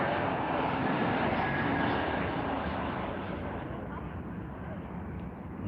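A Lufthansa airliner landing at Heathrow, a loud broad jet roar that holds steady and then slowly fades, with no clear talking.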